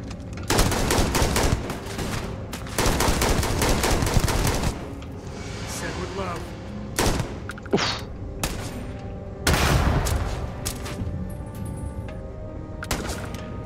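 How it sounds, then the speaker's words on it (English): Rapid gunfire in the space game Starfield, repeated bursts of shots and volleys rolling across the scene, loud and dense with pauses between, a voice talking in between. "Oh, who's shooting?"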